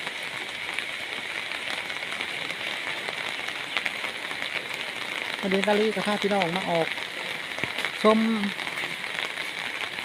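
Steady hiss of rain falling on a surface throughout, with someone talking over it partway through.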